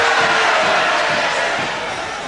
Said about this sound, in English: the crowd just telling him to get on with it